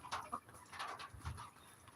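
A very small hen crows on a farm, faint and distant, with a couple of short clucking calls over a quiet background.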